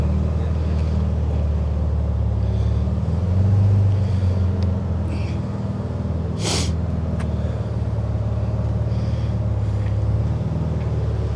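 Rover P6 3500S with its bigger engine driving, a steady loud low engine drone with cabin rumble that stays constant throughout, a brief sharp hiss midway.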